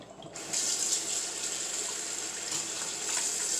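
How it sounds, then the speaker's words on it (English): Tap water runs steadily into a bowl to soak salted cod for stewing, a continuous close gushing rush that starts after a brief quiet moment and fills the rest of the clip without talk. "So now I'm gonna fill this. I'm gonna do like 2 or 3 more changes of water."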